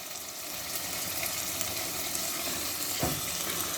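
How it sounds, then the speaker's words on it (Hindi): Water poured into a pan of sizzling minced meat keema with peas sets off a loud, steady hiss and crackle that fills the whole stretch, with a short splash near the end. "अब इसमें मैं 1 कप के करीब पानी डाल दूँगी ताकि हमारे मटर जो हैं वो अच्छे से गल जाएं।"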